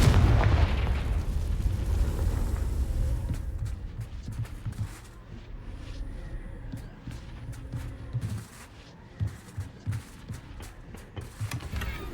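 A Confringo blasting spell goes off in Hogwarts Legacy, a heavy booming explosion at the start that rumbles and crackles away into busy combat noise and scattered impacts.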